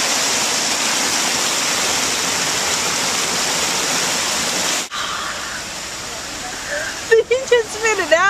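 Spring water at Fern Springs in Yosemite pours in a loud, close, steady rush for about five seconds, then drops off to quieter flowing water as voices start talking near the end.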